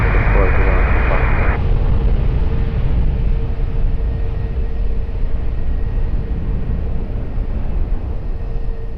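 An airplane on approach to runway 20 at Lisbon Airport gives a loud, steady, broad engine roar that holds evenly throughout, with no voices heard.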